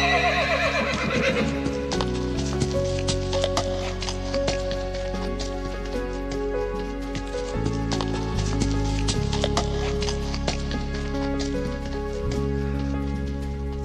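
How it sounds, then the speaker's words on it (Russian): A cavalry horse whinnies loudly at the start, then hooves clip-clop in a steady rhythm over a droning musical background, close and prominent throughout. "Лошадь идет сама по себе."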